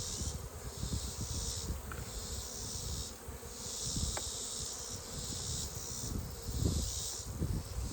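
Bees swarm around a hive, a continuous close buzzing drone that rises and falls in waves, with small knocks and rustles underneath.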